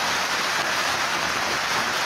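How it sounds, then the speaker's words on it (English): Heavy rain pours down steadily during a thunderstorm in Victoria, a loud, dense wash of hiss with no pauses and no voices. "The thunderstorms were accompanied by heavy rain, flash flooding, strong winds and huge hailstones."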